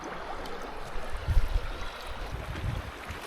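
River water runs over a gold sluice in the Maritsa River, Bulgaria, a steady wash of flowing water with soft low gurgles and a couple of brief heavier splashes, close and moderately quiet.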